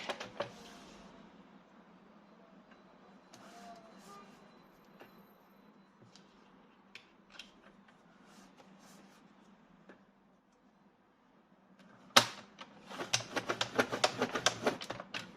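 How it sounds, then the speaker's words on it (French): Scrapbook paper for an album being creased and folded by hand, with quiet scattered rustles and taps followed by a louder burst of crisp crinkling and repeated clicks near the end, close by and with no talking. "Et là, je vais faire mon pli."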